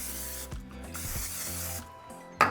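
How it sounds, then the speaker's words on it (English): Non-stick cooking spray is spritzed onto a baking dish in a kitchen: a close, airy hiss in a couple of sustained bursts with brief gaps, then a short clatter at the end. "We're going to begin by spraying our baking dish with some non-stick cooking spray."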